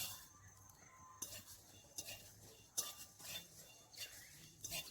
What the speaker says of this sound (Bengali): এখানে আমি জিরে, ধনে আর শুকনো লঙ্কা একসাথে ভেজে নেব